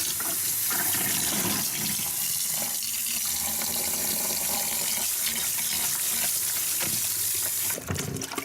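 A fox pelt is rinsed and rubbed in a basin of soapy water with dish soap. A steady, close wash of running and sloshing water continues without a break, then shifts briefly near the end.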